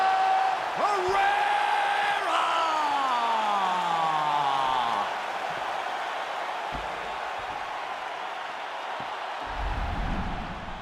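A virtual arena crowd in the UFC 5 video game cheers and whoops after a fight ends, a loud swell that gradually fades to a steady murmur, with a voice speaking over it.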